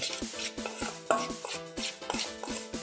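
Cauliflower pieces are stirred through a thick maida batter with chilli powder, chicken masala and cornflour in a bowl, giving repeated close wet squelches and light scrapes against the bowl in a steady rhythm.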